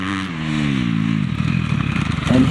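A motocross motorcycle accelerates out of a grassy, slippery corner after braking, its engine rising in a loud, close revving drone that climbs in pitch, with some clatter near the end.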